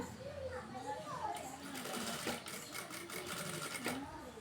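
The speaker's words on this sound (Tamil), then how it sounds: "இப்படி கிராஸாக தையல் போட்டுக்கோங்க" A sewing machine runs a steady stitching buzz while joining a cross piece for a blouse neckline, with someone speaking over it throughout.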